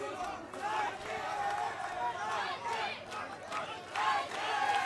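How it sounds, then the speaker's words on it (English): Crowd at a professional bantamweight MMA bout cheers and shouts for the hometown fighter, a dense, continuous roar with surging yells and whistles. "The crowd is definitely cheering on Nike."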